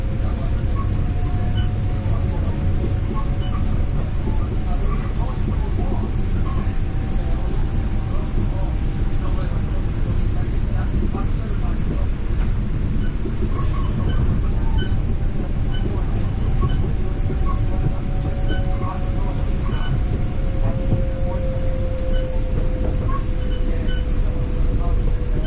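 A Metro-North commuter train runs between Marble Hill and Philipse Manor, a steady loud rumble and hum of the car in motion heard from inside throughout, with faint drifting tonal whines.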